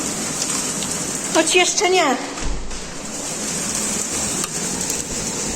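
Heavy rain and hail from a strong storm with wind in Kunów, Poland in 2022 pour down in a loud, dense, continuous hiss, while someone speaks briefly over it.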